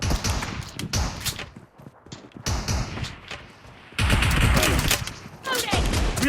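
Shotgun fire during a team deathmatch in PUBG Mobile, a series of sharp blasts and thuds in irregular bursts with a louder volley near the end, mixed with game effects and background chatter.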